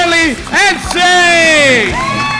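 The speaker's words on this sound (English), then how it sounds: "Keep that applause going" Audience whoops and cheers for a stand-up comedian at a Melbourne comedy school show: loud, close crowd voices with rising shouts that swell and overlap throughout.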